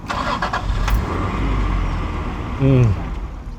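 A car engine turns over and settles into a steady running rumble, with a brief louder rev near the end and faint voices nearby.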